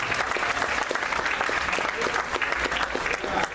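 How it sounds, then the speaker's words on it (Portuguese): A church congregation applauds together during an evening worship service, dense steady clapping filling the room at close range with no pauses. "só quem tem certeza que vai vencer aqui, em nome do Senhor Jesus, aplauda ele."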